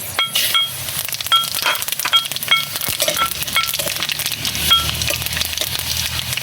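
Panch phoron spices land in hot oil with dried red chillies already frying, giving a close, steady crackling sizzle dotted with small pops and clinks.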